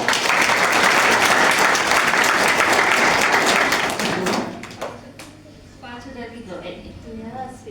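A church congregation at a Sunday service breaks into loud, dense clapping for about four seconds, then it fades, leaving a few scattered claps under a voice speaking.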